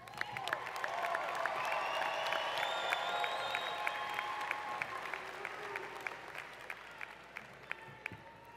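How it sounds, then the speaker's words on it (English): Steady applause from a large audience at a university commencement ceremony, many hands clapping densely, fairly distant, fading slightly toward the end. "I think another round of applause is in order."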